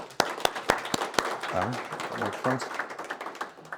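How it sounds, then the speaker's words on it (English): Scattered applause follows a startup pitch at a live pitch session, with several sharp individual claps near the mic at first, then a softer patter as a voice speaks over it. "Okay, if no more questions, then round of applause."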